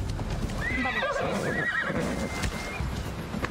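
In the video game Assassin's Creed Odyssey, a horse neighs in a wavering whinny over steady hoof clip-clops and a continuous background wash.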